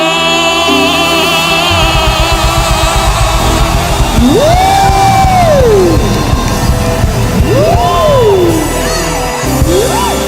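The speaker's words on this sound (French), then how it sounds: "Alors acclamez vite fait." Church congregation during a Sunday worship celebration raising loud, sustained cheers, yells and whoops of acclamation, a dense continuous crowd roar with individual voices rising and falling over it.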